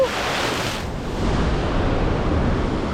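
Ocean waves surge onto a rock ledge in a loud, continuous broadband roar with a slight swell midway, close and wind-buffeted, with no voices.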